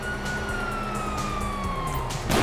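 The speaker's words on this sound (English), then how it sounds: "Hear that? Sirens!" A police siren in the GTA V video game wails steadily in a falling sweep, with a low rumbling engine drone underneath and a burst of noise at the very end.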